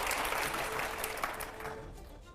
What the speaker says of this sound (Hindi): जोरदार तालियां हो पहले अगले सवाल से पहले।